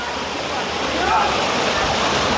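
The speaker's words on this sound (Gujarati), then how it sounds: "આ ઝરણું ઉપરથી આવી અને છેક નીચે." A mountain stream tumbles down past a cave on Sundha Mata hill, giving a steady, close, broadband rushing of falling water that stays loud throughout.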